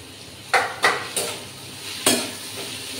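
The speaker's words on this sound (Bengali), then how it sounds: "সুন্দর করে ভাজা হয়ে গেছে আমার আলুটা" Potatoes fry in a wok-style pan under a constant sizzle. A metal spatula strikes and scrapes the pan in four or five distinct stirring strokes, close and clear, with no talk.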